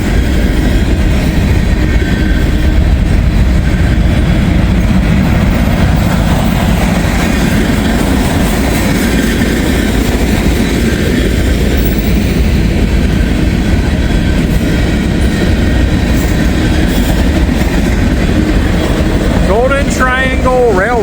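A very long M506 freight train rolls past close by, a loud continuous rumble of wheels and cars with steady clickety-clack, and faint wheel squeal emerging near the end.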